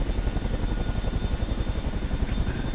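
The twin rotors of a Chinook helicopter thump in Microsoft Flight Simulator 2024, a rapid, steady, loud beating chop with a broad rumbling drone and no talk.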